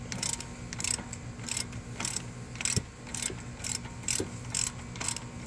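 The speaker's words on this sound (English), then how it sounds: "I'm going to go ahead and completely remove this nut" A ratchet works a nut loose on the driver's side CV axle of a Chevy Cruze, producing bursts of rapid, close metallic clicking in a repeating rhythm over a faint low hum.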